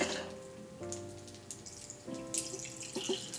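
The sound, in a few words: pouring lemon juice into a cocktail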